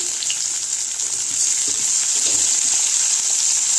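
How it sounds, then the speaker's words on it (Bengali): Chopped tomato and slit green chillies sizzle in a hot pan, a loud continuous frying hiss that stays close and steady from start to finish. "এখন আমি এখানে এই কুচনো টমেটোটা দিয়ে দিচ্ছি আর চেরা কাঁচা লঙ্কা দিয়ে দিচ্ছি"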